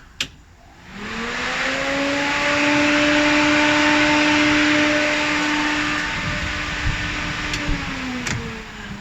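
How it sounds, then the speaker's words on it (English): Aftermarket electric radiator cooling fans on a BMW E36 drift car spin up with a click, settling into a loud, steady whooshing whine that holds for several seconds before easing slightly, close by with no talking. "and you've got fans"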